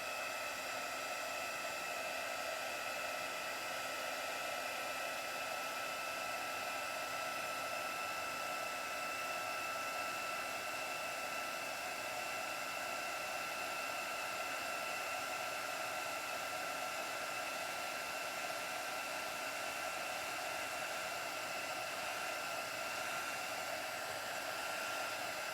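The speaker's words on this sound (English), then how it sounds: "Grab your heat tool." A heat embossing tool blows steadily for a long stretch, a constant even whirring hiss while melting embossing powder on a stitched leaves card, with no talking.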